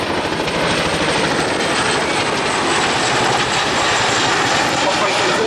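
RAF Chinook twin-rotor helicopter flying at the Duxford air display, a loud continuous rotor and engine roar with steady heavy thumping that holds throughout, fairly close overhead.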